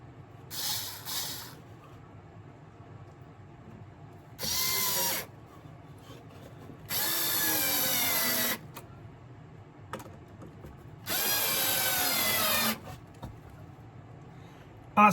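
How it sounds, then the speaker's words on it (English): Power screwdriver driving a screw into a model railway shop fitting, heard as several separate whirring bursts of a second or two each with short pauses between them, fairly close. "After that, I can screw the thing in a little bit tighter."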